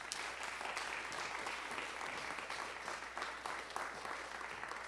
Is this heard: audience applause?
yes